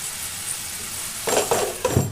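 A lid set over a hot pan of frying radish and shrimp on a high flame, a few close metallic clinks and clatters over a soft background sizzle.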